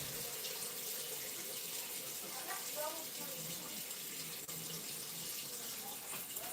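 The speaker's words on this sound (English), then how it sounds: "I'm filling up that bowl with water so it's not hard to clean here in a little bit." A bowl fills with water from a kitchen tap, a steady, close rush of running water that holds constant throughout, with faint background sounds underneath.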